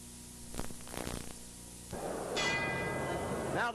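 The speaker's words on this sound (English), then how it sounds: "Now the bell for round 6." A boxing ring bell rings between rounds at a heavyweight fight, giving a couple of distant clangs early on before crowd noise rises and fills the rest.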